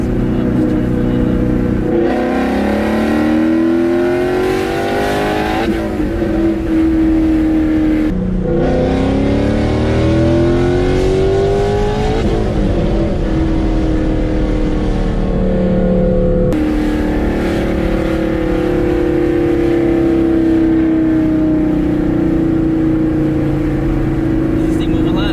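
A 700 hp ProCharged Ford Mustang GT accelerates hard in second gear, its engine and supercharger whine climbing in pitch through repeated loud pulls with gear changes, heard from inside the car with occasional talk.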